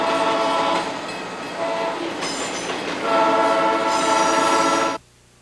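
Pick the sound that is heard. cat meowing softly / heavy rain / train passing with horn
train passing with horn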